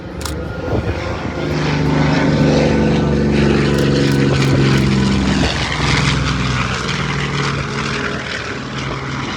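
A Douglas A-26 Invader twin-engine medium bomber drones loudly overhead, its propeller engines producing a deep, throbbing, steady roar that swells and holds without a break, with no talk.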